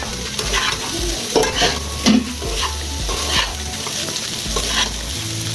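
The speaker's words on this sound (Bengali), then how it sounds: "মিশিয়ে দিচ্ছি ভালো করে রাইসটা, যাতে মশলাটা এবং সবজিটা পুরোটা ভাতের সঙ্গে মিশে যায়।" Rice with spices and vegetables is stirred in a hot pan, a steady sizzle with scraping spatula strokes and a few louder scrapes, close and continuous without speech.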